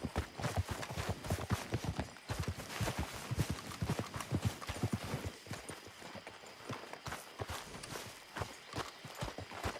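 Horse hooves clip-clop steadily and close by in the video game Red Dead Redemption 2, a brisk even rhythm of hoof strikes running throughout with no talking over it.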